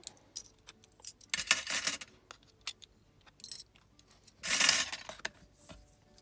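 Small clips are pulled off a paper junk-journal project made from recycled toilet paper rolls, giving quiet scattered clicks and a few brief louder rustling, clattering bursts close by. No one speaks.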